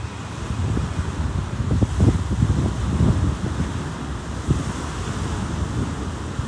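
Sea waves roll and wash onto Colombo's city beach in Sri Lanka, with a continuous low surf rumble and gusting wind buffeting the microphone, and no voices.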